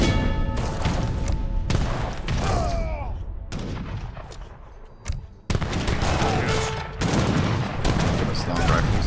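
A volley of long rifles crashes out in a strategy game battle, a dense ragged burst of shots in repeated waves, loud and close, with a brief lull midway before the firing resumes.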